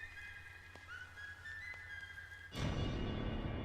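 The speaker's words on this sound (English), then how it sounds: "There's that whistling again." Thin, high whistling in the video game Bendy and the Ink Machine Chapter 5 trailer drifts in and out over a quiet hum, followed by a sudden burst of loud noise near the end.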